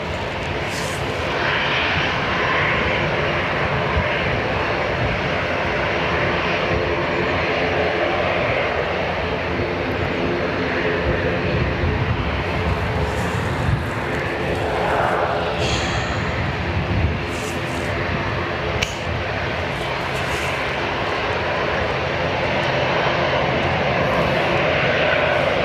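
An ATR turboprop airliner turns on the ground at Dublin Airport, its engines giving a steady, loud, nearby droning roar that holds for about twenty-five seconds with slight swells.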